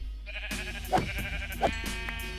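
A Minecraft sheep bleats twice, short wavering calls close up over a steady low hum, with a faint tonal background.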